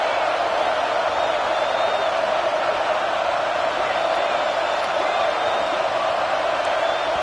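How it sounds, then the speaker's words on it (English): A stadium crowd at a football game roars steadily with scattered whoops and cheers, a dense, continuous wall of noise. "with this place rocking, the crowd forces a false start"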